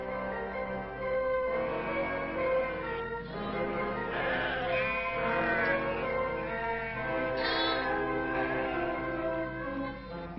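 Sheep bleat repeatedly over a continuous murmur of background sound in Djelfa, Algeria, several wavering calls overlapping at moderate distance.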